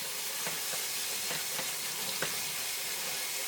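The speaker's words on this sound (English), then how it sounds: "then I put them into a strainer and then I rinse them" Tap water runs steadily over basmati rice in a strainer, a constant hissing wash broken by a few soft clicks and splashes.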